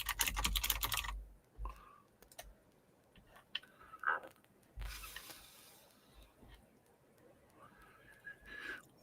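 Keys clatter on a computer keyboard, starting with a dense burst of typing and then thinning into scattered clicks and short runs, close and fairly quiet.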